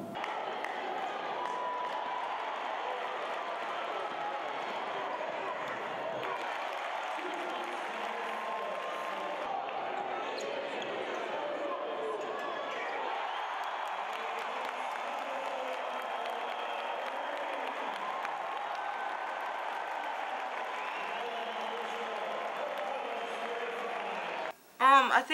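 Steady roar of a record crowd of more than 3,000 fans at a women's college basketball game between Hope and Calvin, a continuous wash of voices and clapping with commentary over it and a louder burst at the very end.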